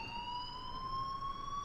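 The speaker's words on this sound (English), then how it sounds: "please turn off that alarm" In the game Life is Strange, a steady electronic alarm rings with a sustained pure tone that rises very slightly in pitch, heard alone at moderate loudness.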